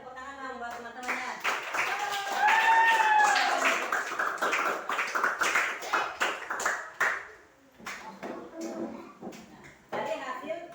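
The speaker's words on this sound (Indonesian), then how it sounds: "Beri tepuk tangan dong buat teman-temannya." Classroom of students applauding presenting classmates, a burst of clapping that swells and then thins into scattered claps, mixed with children's voices and chatter throughout.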